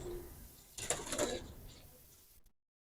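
Young pigeon chicks give a short burst of soft cooing and fluttering close by, lasting about a second and a half before stopping into silence.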